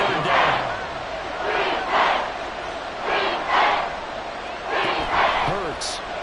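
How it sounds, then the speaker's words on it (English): Football stadium crowd cheering ahead of a big third down, a broad roar swelling and easing in repeated waves, loud and continuous across the whole stretch. "The crowd getting into it as we come up on a big third down."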